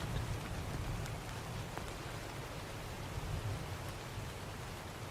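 Steady rain falls as a soft, even hiss with faint scattered drops, continuous and moderately quiet with no voices.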